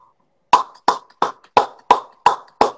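Seven sharp hand claps in a steady, even rhythm, close and fairly loud, each with a quick decay into silence; no one speaks.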